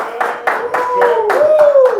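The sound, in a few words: studio audience clapping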